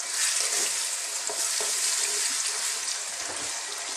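Chicken curry marinade with onions, scotch bonnet and spices sizzles steadily in a hot pan, a dense continuous frying hiss with occasional stirring scrapes, close and loud with no talk.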